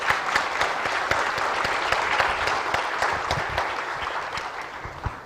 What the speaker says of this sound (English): have a round of applause for all the...